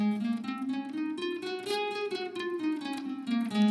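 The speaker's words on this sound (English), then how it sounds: "It's going to be a D mixolydian" A D mixolydian scale played note by note on a sustained, harmonically rich instrument, rising and then falling again in a smooth, even run, close and fairly quiet.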